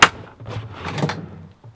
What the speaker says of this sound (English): Down below, we have a heavy duty drawer slide.